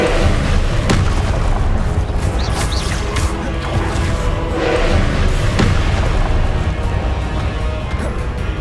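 Deep booming blasts from the Confringo blasting spell in Hogwarts Legacy, heavy explosive thumps layered over a dense, rumbling combat soundscape that stays loud throughout.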